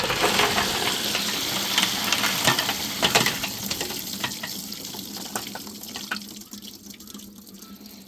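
Running water rinses items out, a steady broadband wash with scattered drips and clatters, fairly close and continuous throughout, easing slightly toward the end.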